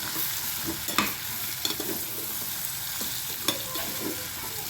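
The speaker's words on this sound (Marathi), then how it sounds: "आता आपण ह्याला अर्धा मिनिट छान असं परतून घेऊया." Stuffed brinjals sautéing in a hot pan for a spicy Maharashtrian dish give a steady close sizzle, with repeated scraping knocks of the spoon as they are stirred.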